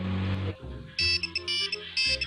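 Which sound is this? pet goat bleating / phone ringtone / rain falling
phone ringtone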